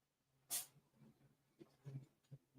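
A single sharp, close sneeze bursts out over quiet room noise, followed by soft breathing and faint sounds.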